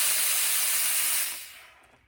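A LauraStar IGGI handheld garment steamer releases a strong, steady hiss of steam for over a second, then fades away into near silence.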